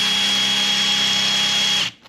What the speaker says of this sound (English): I'm just taking these spot welds off.